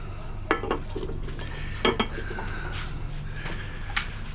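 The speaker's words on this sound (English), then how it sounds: "Put the lid back on." A lid is set back on a pot during gold refining, a few metallic clinks and clatters with light scraping, close by and moderately loud.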